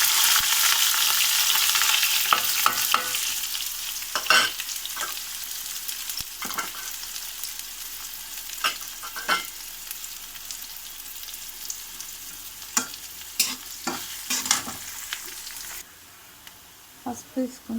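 Mustard seeds, cumin and onion frying in a hot pan for a dondakaya chana dal curry, a steady loud sizzle with sharp crackles and pops scattered throughout, easing off near the end.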